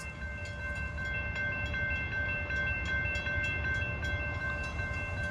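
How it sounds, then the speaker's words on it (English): Amtrak P371 passenger train arriving at the Holland, Michigan station, heard as a steady low rumble of rolling cars with a sustained tonal hum or horn-like drone and faint clicking, continuous and fairly close. "it's the Amtrak P371, which is a passenger train"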